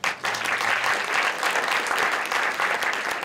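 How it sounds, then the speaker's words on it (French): An audience at a short film awards ceremony in a Paris cinema claps steadily and densely throughout, a sustained wash of many hands at even loudness without pause. "Je pense qu'on peut les applaudir."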